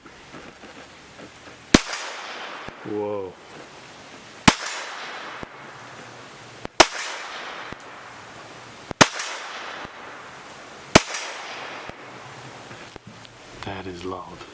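Five unsuppressed shots from a Huben K1 .25 caliber pistol, sharp loud cracks spaced a couple of seconds apart with a ringing tail after each, and a brief exclaimed voice between them.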